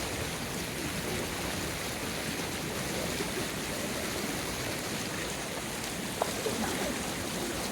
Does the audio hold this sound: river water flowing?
yes